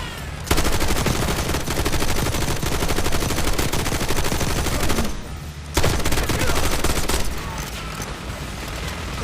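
Sustained machine gun fire in the video game Call of Duty Black Ops 6, long dense bursts of rapid shots with a short pause midway, loud and close.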